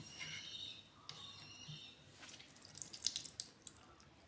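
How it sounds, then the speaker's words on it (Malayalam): Water is squeezed by hand out of boiled, cooled soya chunks, giving soft wet squelches and faint drips that grow into a few sharper splashes near the end, close by and quiet, with no talking. "അപ്പോൾ വെള്ളം മുഴുവൻ ഇങ്ങനെ ഇതുപോലെ പിഴിഞ്ഞ് മാറ്റേണ്ടതുണ്ട്."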